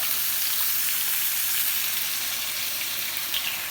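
Chicken broth sizzles and fries loudly in a hot pan with sun-dried tomatoes, a steady dense crackle throughout with no talking.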